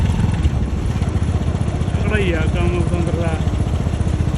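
A heavily loaded tractor's engine runs with a steady, loud, throbbing chug, close by, while someone talks over it.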